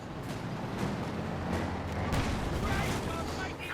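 A Panzerstrike artillery barrage in Company of Heroes 2 thunders without letup, dense rumbling blasts and crackling impacts layered over continuous battle noise, loud and busy throughout.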